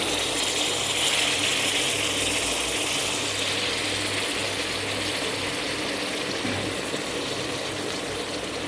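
Steady running tap water while a goat lung is washed, a constant close rushing flow that stays even throughout, with no voices.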